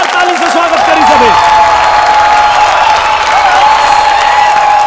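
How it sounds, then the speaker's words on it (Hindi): An audience at a televised Bhojpuri dance competition claps loudly and continuously to welcome a contestant, with stage music tones underneath. "जोरदार ताली से स्वागत करी सभी"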